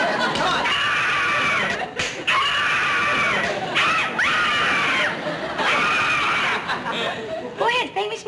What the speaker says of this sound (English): Would you like to scream and scream and scream?